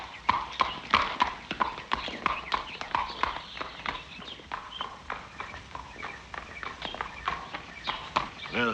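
A prize-winning show horse's hooves clip-clopping in a steady walking rhythm, close and distinct, as the animal is led away, with faint voices in the background.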